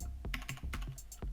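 Keystrokes clatter on a computer keyboard being used for Dota 2 Invoker hotkey combos, about six or seven quick, close clicks and taps in an uneven rhythm, with no voices.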